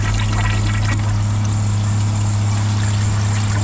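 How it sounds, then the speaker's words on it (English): A 2003 or 2005 Kohler Wellworth Ingenium toilet flushing on a second flush, a loud steady rush of water with a low hum from the tank and pipes and no speech. "I'm gonna give it a second flush to see if it still is in the toilet or in the pipes."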